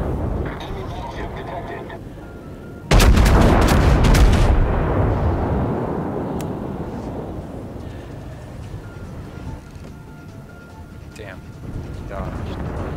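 Warship guns firing during a ranked naval battle game: one loud, sharp salvo that booms close by and then rolls off into a long fading rumble, with softer rumbling before and after.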